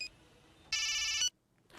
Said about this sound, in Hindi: अब तुलसी को माल की डिलीवरी के लिए फोन किया जाए